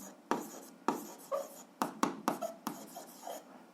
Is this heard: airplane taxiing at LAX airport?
no